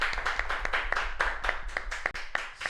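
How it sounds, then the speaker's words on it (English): A small audience claps in a loose, uneven patter of distinct hand claps at a modest distance for about three seconds, with no talking over it. "can we get a round of applause for that?"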